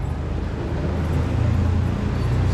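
Big-city traffic in Manila makes a dense, continuous low rumble of engines and road noise, loud and close, with no clear individual vehicles standing out.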